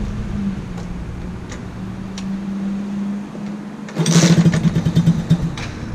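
A super pocket bike's small engine, freshly given a top end rebuild, idles unevenly with a low buzzing drone, then revs up abruptly into a louder, pulsing, rattling burble near the end.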